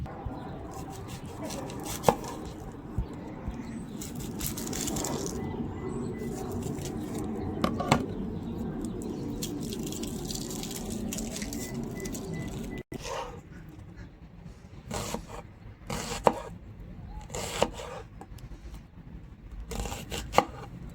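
Knife chopping vegetables for a mixed weight-loss salad, likely onion after cucumbers, with a steady run of crisp cuts and sharp board taps throughout and a brief pause midway.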